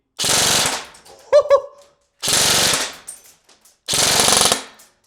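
A stock airsoft rifle fires three rapid full-auto bursts, loud and close, each a dense buzzing rattle of about a second with short gaps between, and a brief voice exclamation after the first burst.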